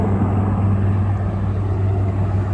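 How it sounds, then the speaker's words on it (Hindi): A low, steady roar of two helicopters passing overhead in Kolkata, a continuous rumble that holds level throughout with no voices. "ये देखो 2 हेलीकॉप्टर्स एक साथ जा रहे हैं गरजते हुए"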